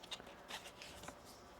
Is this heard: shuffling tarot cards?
yes